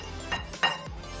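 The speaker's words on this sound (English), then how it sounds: "Let's mix it well" A utensil stirs biscuit cake batter mixed with baking powder in a bowl, making three quick scraping clinks in a row, close and fairly quiet, with no voices.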